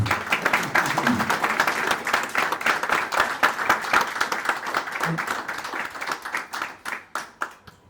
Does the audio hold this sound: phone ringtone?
no